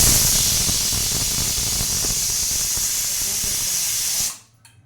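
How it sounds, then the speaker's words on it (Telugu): A pressure cooker on a stove lets out a loud, steady hiss of escaping steam for about four seconds, then cuts off abruptly to near quiet. "నేనైతే కుక్కర్ పెట్టిస్తున్నానండి పొయ్యి మీద"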